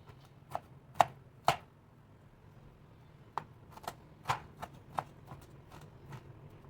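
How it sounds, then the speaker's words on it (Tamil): A knife chops pineapple into small pieces on a board, sharp close knocks in irregular bursts, some spaced apart and others quicker, over quiet kitchen background. "அந்த பழத்தை மட்டும் வந்து கட் பண்ணி எடுத்துக்க போகிறேன்"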